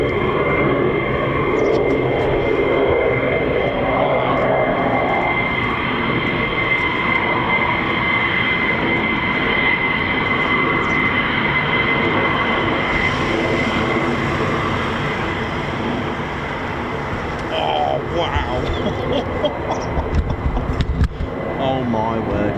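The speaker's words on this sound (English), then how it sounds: "We've got an F-15 taxiing." An F-15 fighter jet taxis at RAF Lakenheath, home of the 48th Fighter Wing, its engines giving a loud, steady, broad roar that holds for the whole stretch and swells slightly near the end.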